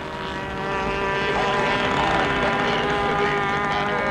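Vintage propeller airplanes drone overhead at an air show at Rhinebeck, a loud sustained engine buzz that swells slightly, with no talk.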